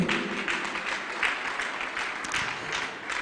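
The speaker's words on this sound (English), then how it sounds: "Clap hands for Jesus." Church congregation clapping hands together during a live Holy Communion service, a steady dense patter of applause filling the room throughout, with no voices over it.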